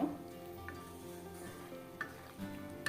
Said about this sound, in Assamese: ঢালি দিয়াৰ পিছত এতিয়া মই ধুনীয়াকৈ লৰাই দিম।